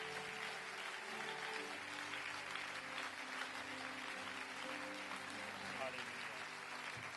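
Church congregation applauding during a French-language worship service, steady sustained clapping filling the room throughout with no clear break, a broad even wash of many hands at moderate level.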